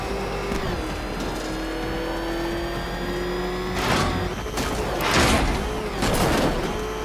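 The Batmobile's engine in Batman: Arkham Knight revs loudly with a sustained tonal whine, rising in repeated surges near the end of the stretch, with no voice over it.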